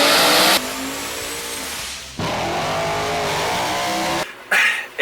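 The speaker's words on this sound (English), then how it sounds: "this is what an LSX engine is" An LSX engine roars loud and close, revving hard in sustained bursts with brief drops between pulls, with a sharp squeal near the end.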